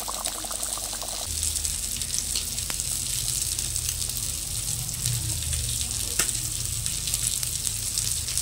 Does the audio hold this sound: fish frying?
yes